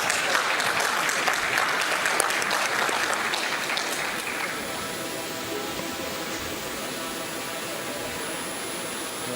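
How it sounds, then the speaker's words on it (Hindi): Audience applause in a hall during a memento presentation on stage, a broad wash of clapping that starts fuller and thins slightly partway through, continuing steadily to the end. "तालियां आ जानी नहीं?"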